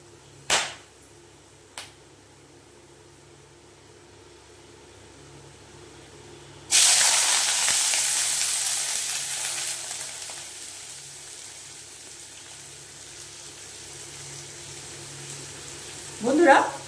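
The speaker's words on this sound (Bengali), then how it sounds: "এবার পেঁয়াজটা ভালো করে ভেজে নেব।" Whole garam masala (cinnamon, cardamom, cloves, mace) and chopped onion hit hot oil with a sudden loud sizzle that slowly fades to a steady fry, after a couple of sharp knocks, with a clatter near the end.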